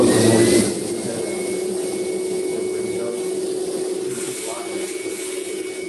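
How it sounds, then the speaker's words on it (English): A vacuum runs with a steady, close whooshing drone and a faint whine, holding an even level throughout, with a voice faintly audible underneath. "Vacuum again."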